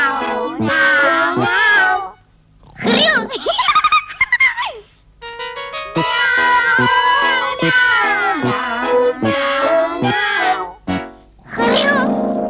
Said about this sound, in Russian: Замяукали котята